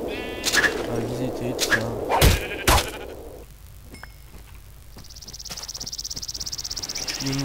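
Sheep bleat a few times in Minecraft, close and clear, over a soft game ambience that turns into a steady chirping insect-like drone, with someone speaking French at times.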